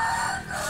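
A Bangkok breed rooster crows close by in a village, a loud sustained harmonic call filling the short moment with no talk over it.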